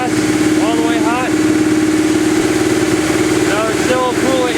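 A Subaru engine idles steadily up close during a coolant fill, a continuous mid-pitched hum, while people talk over it.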